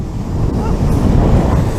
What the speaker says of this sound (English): look at those waves crashing in, look.